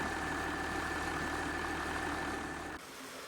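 Tractor engine idling in the Farming Simulator 19 video game, a steady, loud droning hum with a constant tonal whine that cuts off sharply just before the end, leaving a faint low rumble.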